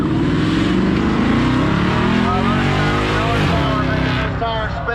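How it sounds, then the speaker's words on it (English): An off-road vehicle spins its tire in sand with a loud engine revving hard, its pitch rising and falling. An announcer talks over the roar. "Making this tire spin."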